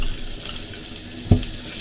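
Onion, garlic and green chili frying in a pan for a home-style mutton stew, a steady broad sizzle with a brief louder clatter partway through, no talk.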